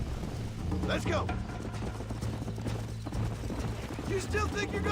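Horse hooves clip-clop at a gallop in the Red Dead Redemption video game, a steady pounding rhythm under game music and loud voiced dialogue throughout.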